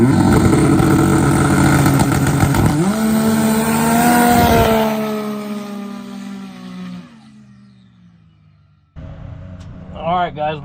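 A 550-horsepower methanol-fuelled Can-Am side-by-side with more than 50 PSI of boost roars loudly at high revs, then pitches up and winds down toward silence before a brief rough burst at the end.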